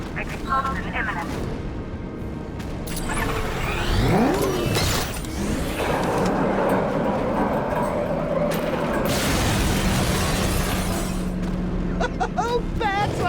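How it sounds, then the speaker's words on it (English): A big explosion rips through Ace Chemicals in Batman: Arkham Knight, a long, loud roaring rumble with debris and booming swells that sustains for several seconds, with a voice speaking over the start. "Warning, explosion imminent."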